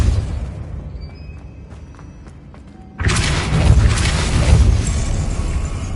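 A Depulso spell goes off in the Harry Potter Hogwarts video game: a sudden loud, broad blast erupting midway that keeps rumbling and crackling after a quieter, chiming lead-in.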